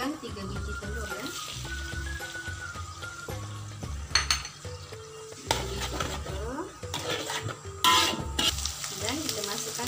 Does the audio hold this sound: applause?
no